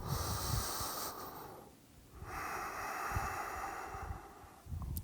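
Yoga instructor breathing deeply during a class, with slow audible inhales and exhales and rushing breath near the microphone, broken by a short pause.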